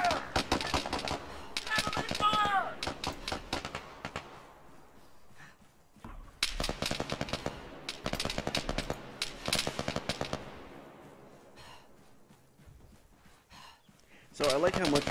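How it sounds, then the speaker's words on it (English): Enemy gunfire in Apex Legends, rapid automatic bursts with sharp cracks in several loud volleys, heard close over game sounds with voices talking in between. "Fire! Enemy fire!"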